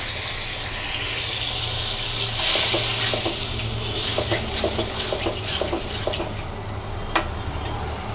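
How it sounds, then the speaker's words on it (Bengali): Water pours into a hot pan of frying potatoes, giving a brief loud hiss and sizzle, followed by steady frying crackle and a few sharp clinks of stirring. "অল্প একটু পানি দিব যাতে আলুটা সিদ্ধ হয়"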